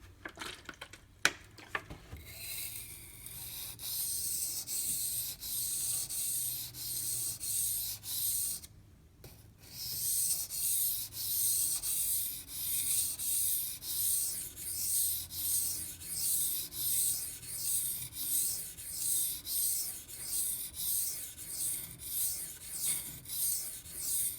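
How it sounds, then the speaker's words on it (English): A knife blade rubbed back and forth across a wet Pride Abrasives water stone to raise a slurry, a gritty scraping with a steady rhythmic stroke pattern that pauses briefly midway, close up and alone. "I'm going to go ahead and generate a little slurry to see if I can help get this scratch out of the base."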